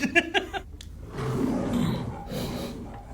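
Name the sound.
tiger roar in Rocky movie audio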